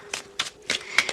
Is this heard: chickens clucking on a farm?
no